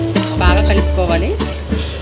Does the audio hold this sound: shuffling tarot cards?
no